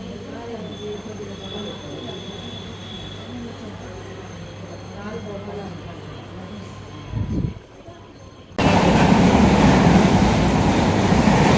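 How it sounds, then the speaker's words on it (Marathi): Train at an Indian railway station, a rumbling rail noise with wheel squeal, then a loud broadband rush of a passing train near the end, heard without speech. "तर चला आपण जाऊया रेल्वे स्टेशनमध्ये आतमध्ये."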